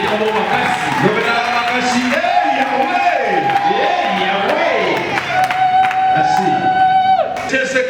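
Congregation at a Tuesday evangelical church service cheering and shouting loudly and continuously, a dense crowd roar with whoops and sustained voices throughout.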